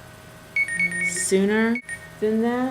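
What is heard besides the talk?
phone reminder alarm beeping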